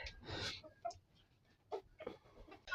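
Chickens and a rooster cluck in short, scattered bursts close by, with a few louder squawks among softer clucks.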